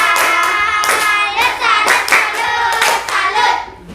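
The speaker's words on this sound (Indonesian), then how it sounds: "kita beri tepukan biar semangat lagi yuk. Tepuk salut." A classroom of pupils performs a rhythmic 'tepuk salut' clapping chant, hands striking in quick patterned bursts mixed with loud chanted voices, dense and close throughout.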